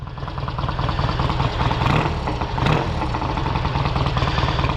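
A 1968 Triumph Bonneville cafe racer's engine running out of gear through race mufflers, loud and close with a steady throbbing idle and two slight swells of revving.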